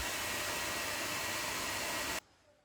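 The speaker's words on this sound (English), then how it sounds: "to speed up the drying, I'm gonna use a hairdryer." A hair dryer blasts at close range to dry watercolor paint, making a loud, steady rushing whoosh that runs for about two seconds and then cuts off abruptly into near silence.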